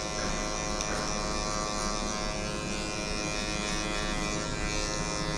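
An electric hair clipper buzzes steadily and close while cutting hair during an anatomical haircut, a continuous even motor drone with no talking.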